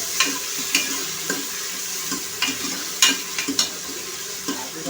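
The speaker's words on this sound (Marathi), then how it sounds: "तेलामध्ये टाकायचे आहेत 2 बारीक चिरलेले टोमॅटो. टोमॅटो छान परतून घ्यायचे." Two finely chopped tomatoes sautéing in three spoons of oil, a steady hissing sizzle punctuated by intermittent stirring taps and scrapes of a spoon.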